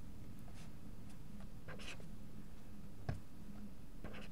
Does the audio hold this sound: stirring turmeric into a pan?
no